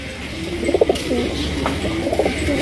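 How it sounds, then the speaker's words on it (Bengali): A pair of small sky-blue Rajgolla pigeons, a male and a female, coo close by in short, soft, repeated bursts over a faint steady background hum. "মাশাআল্লাহ চমৎকার একজোড়া, দেখার মতো একজোড়া কালারিং রাজগোল্লা কবুতর দেখতেই পাচ্ছেন, আকাশি কালারের মধ্যে"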